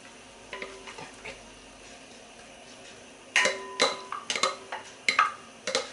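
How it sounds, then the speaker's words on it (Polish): Pancakes fry in a covered pan, sizzling steadily, broken up by sharp clinks and clatters of a lid and utensils that come louder and more often in the second half. "przykrywamy patelnię i smażymy 5 minut"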